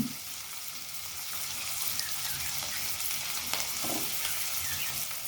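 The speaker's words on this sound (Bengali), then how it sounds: "আমাদের পেঁয়াজটি ভাজি হয়ে গেছে বন্ধুরা এখন আমরা এর সঙ্গে অন্যান্য মশলা দিয়ে দিচ্ছি" Onions with red chili and cumin pastes fry in a pan in a steady, fairly quiet sizzle, with occasional light stirring clicks.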